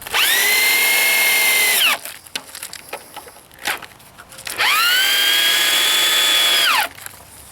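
A power drill with a 3/16-inch, 6.5-inch-long bit bores pilot holes in wood, with two long, steady high whines about five seconds apart, close and loud, and clattering handling noises between them.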